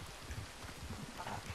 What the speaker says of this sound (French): Encore de la pluie pour changer dans le jeu